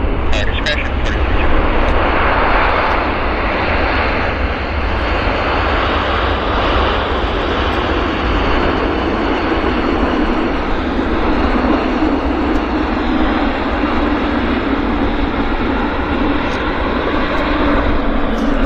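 An airliner rolls out after landing at Vancouver airport with a loud, continuous broadband engine roar and rumble that holds steady throughout, with speech over it.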